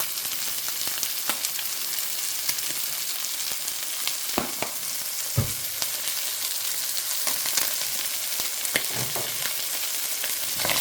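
Meat frying in a pan with adobo and Italian seasoning while being stirred, a steady close sizzle broken by scattered scrapes and clacks of the utensil, with no talk.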